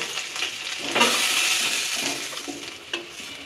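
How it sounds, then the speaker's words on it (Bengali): Prawns frying in mustard oil in a pan give a close, continuous sizzle with a few stirring scrapes and light clinks of the utensil, with no talking. "মাছগুলো আমি ভেজে নেব।"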